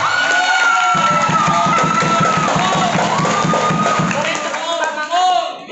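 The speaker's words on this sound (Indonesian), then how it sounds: "Beri tepuk tangan buat Neng Niswa dan Neng Syifa." A crowd cheers and whoops with children's voices shouting throughout, loud and continuous, at a duet speech contest held at a pesantren (Islamic boarding school); scattered clapping sits underneath the voices.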